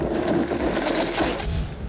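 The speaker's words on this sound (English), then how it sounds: "blend away" A blender runs on a pumpkin pie smoothie with cinnamon and nutmeg, giving a loud, steady, close motor whir with a churning rumble throughout.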